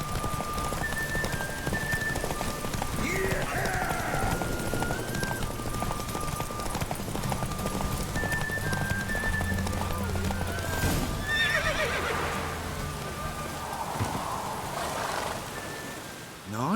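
A horse gallops in a race in The Witcher 3, its steady clip-clop of hooves running the whole way with occasional whinnies and neighs, under game music and a voice speaking.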